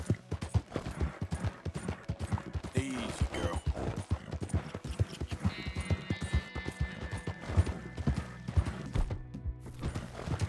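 Horse hooves pounding in a rapid clip-clop gallop in the video game Red Dead Redemption II, steady and close throughout, mixed with game ambience, faint wildlife calls and someone talking intermittently.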